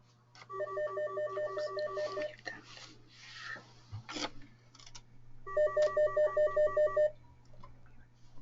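A phone rings with repeated electronic ringtone bursts, two clear ringing sequences separated by rustling and handling noises, with a low steady hum underneath, no talking.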